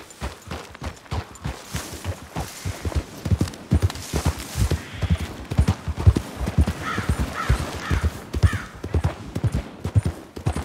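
Steady clip-clop of horse hooves walking in Red Dead Redemption 2, loud and close with a regular rhythmic beat, a brief whinny-like tone partway through and no talk.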